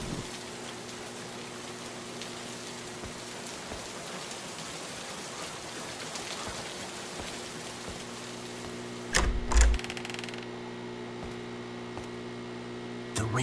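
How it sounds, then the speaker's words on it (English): Rain falls in the video game Tangles as a steady, fine hiss over a constant electrical hum, broken by a brief louder clatter near the end, with no voices. "The rain suddenly stopped."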